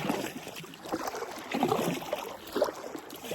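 Kayak paddle strokes on the open sea, soft splashes and water swishes recurring every second or so over a quiet background, faint and close, with no voices.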